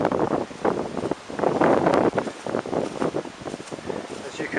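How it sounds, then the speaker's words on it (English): Strong wind gusts buffet the microphone at a winter campsite, rising and falling in loud, rough waves with brief lulls between blasts. "As you can hear, it's very windy."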